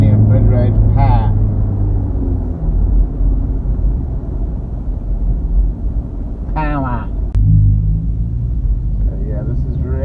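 A GWM Tank 300 diesel SUV pulls away with a deep, steady engine rumble close inside the cabin, building after a brief turbo lag, while someone talks over it.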